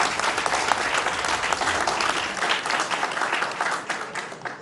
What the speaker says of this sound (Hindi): जोरदार तालियों से चौपाल का आगाज एक बार फिर से।